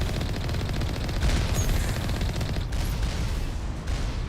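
Turrets fire in Mass Effect 1 with a dense, continuous rattle of rapid shots, loud and close, punctuated by a few sharper bursts and no voices.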